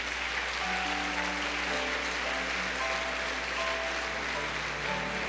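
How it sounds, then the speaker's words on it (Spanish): A church congregation claps in steady, dense applause that lasts throughout, with faint sustained music tones running beneath it. "Vamos a darles un aplauso para que ellos se animen"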